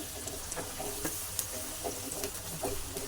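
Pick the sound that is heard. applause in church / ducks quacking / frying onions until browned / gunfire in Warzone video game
frying onions until browned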